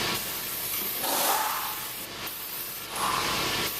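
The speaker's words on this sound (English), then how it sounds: "and all you got to do is simply just spray it." Silicone-based undercoating is sprayed onto a car during professional detailing, making a loud, close, continuous aerosol hiss with a few swells in strength and no talk.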